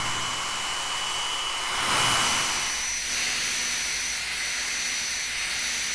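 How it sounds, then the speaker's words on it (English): A hair dryer blows steadily on a high setting while a round brush styles a beard, a loud, close hiss with a whine that swells briefly and then settles. "Hair dryer on high, round brush is just gonna pull the hair down in a circular motion."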